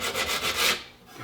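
Coarse 100 grit sandpaper rubs back and forth in steady strokes across a rusty, pitted Model 1915 rifle receiver, a close dry rasping that fades at the end.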